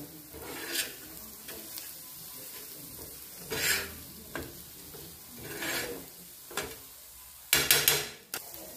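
Spices fry gently in oil over a low gas flame for egg masala, with a soft, quiet sizzle broken by several short spatula scrapes against the pan and no voices.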